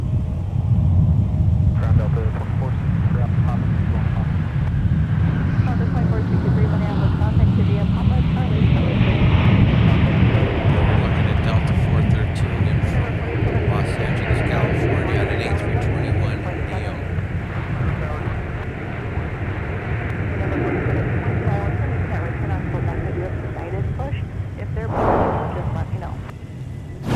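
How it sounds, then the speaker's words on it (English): An Airbus A321neo airliner arriving at MSP airport, a loud sustained engine roar and rumble with wind buffeting the microphone, swelling and easing over half a minute while voices and radio chatter run underneath. "We'll take another look here via instant replay of our A321neo arrival."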